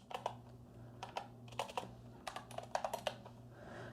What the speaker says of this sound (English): Now you can start typing things in here.